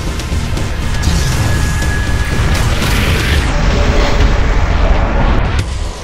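An explosion in the video game Yaiba: Ninja Gaiden Z: a loud, sustained rumbling blast with crashing debris and roaring noise that runs steadily for several seconds, with no voices.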